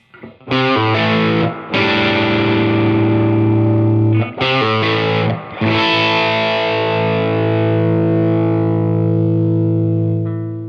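Electric guitar played through a Nobels overdrive pedal stacked with further gain, giving a loud, distorted tone with a few struck chords left to ring out and sustain, with no talking.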